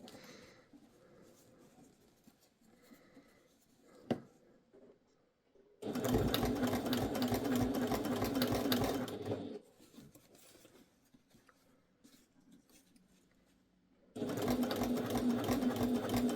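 A sewing machine runs top stitching around a zip on a fabric pouch, 1/8 inch from the edge at a 3.5mm stitch length, in two steady close bursts separated by a quiet pause.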